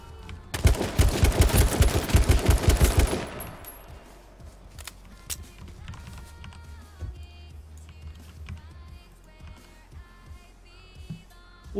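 Rapid automatic gunfire from the battle-royale video game H1Z1, a loud dense burst of shots over about three seconds, followed by quieter scattered in-game sounds and faint distant pops.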